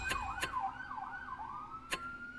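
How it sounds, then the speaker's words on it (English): Emergency vehicle siren wailing outdoors, a steady rising and falling tone heard from a distance and fairly faint, with a few sharp clicks or taps breaking in over it. "I can, in fact, hear the sirens."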